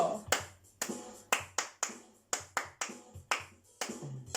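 A music class claps a rhythm by hand, a steady series of sharp, close claps in short patterned groups, each ringing slightly in the room, with no voices over them.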